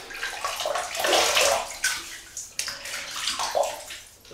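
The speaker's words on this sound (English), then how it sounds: "Just rinse the face, wet it." Water splashes as hands rinse and wet a face before a shave, giving two close bursts of sloshing and dripping separated by a short pause.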